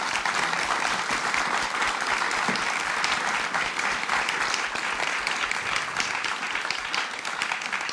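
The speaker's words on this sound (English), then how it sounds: "Let's give them a big round of applause." Audience applause for a panel at an evening wildlife event in Oxford, steady, dense clapping that fills the whole stretch at an even level with no voices over it.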